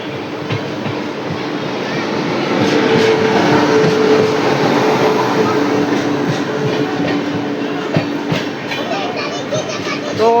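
Jabalpur Express hauled by a WAP-7 electric locomotive rolls past at close range, a steady loud rumble with wheel clatter building midway and holding, with faint voices in the background.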